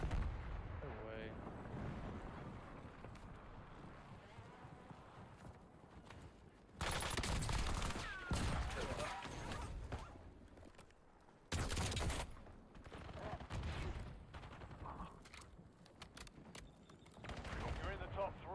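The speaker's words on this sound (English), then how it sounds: "Enemy precision airstrike." Enemy precision airstrike explosions in Call of Duty Warzone Resurgence: two loud, roaring blasts, each lasting about a second, rise over steady gunfire and game noise, with voices speaking throughout.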